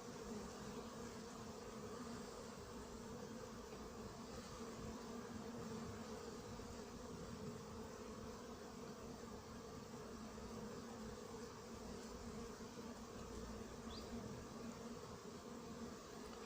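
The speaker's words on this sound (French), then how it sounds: "Une abeille qui rentre dans la tente par en haut." A bee buzzes while trapped inside an anti-hornet tent at an apiary in Montgeron, a steady close insect drone holding on throughout under a broadband outdoor hiss.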